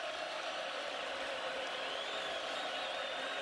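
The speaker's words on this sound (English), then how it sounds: "Comes the loudest tomahawk chop of the night as the Noles partisan crowd tries to make it tougher on" A partisan Florida State crowd performs the tomahawk chop chant at a college football game against LSU, a steady, dense roar of massed voices filling the stadium without a break.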